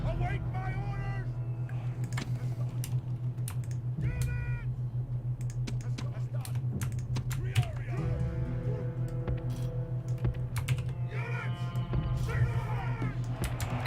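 Computer keyboard keys pressed in quick, scattered bursts while playing Rome: Total War, close and fairly faint beneath a steady humming game soundtrack with occasional chimes.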